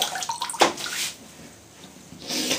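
Running water splashed while washing the face after a shave with a Boots double-edge safety razor, close and uneven, with bursts of splashing, a quieter pause, then more water.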